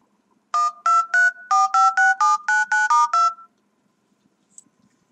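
A telephone is dialed: about a dozen bright keypad tones chirp in quick succession, loud and close, then give way to near silence with one faint blip.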